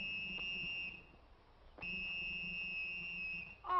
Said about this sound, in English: stop blowing that whistle